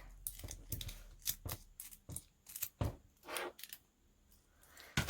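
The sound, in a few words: scissors cutting an old book page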